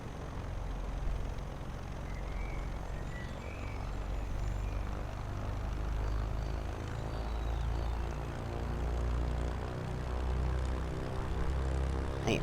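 Propeller aircraft idling and taxiing on the ground in Microsoft Flight Simulator 2024, a steady low engine drone with a faint rising harmonic whine, continuous and close throughout with no talk.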